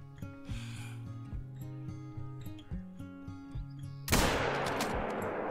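A single loud, sharp hunting rifle shot aimed at a turkey in the Call of the Wild game, cutting in suddenly after a stretch of background music and leaving a lingering rumbling tail.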